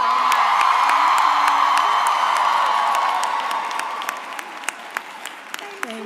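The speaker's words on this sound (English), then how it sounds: "Another round of applause for Dr. Henson." Audience applause and cheering at a college commencement ceremony fill the hall with steady, loud clapping and a few whoops, gradually thinning out as scattered individual claps finish it off.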